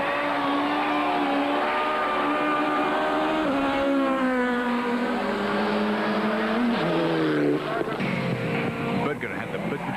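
Rally cars, a Mitsubishi and a Subaru, race along a twisty stage, their engines revving loudly and shifting pitch continuously as they pass, with a commentator talking over the noise.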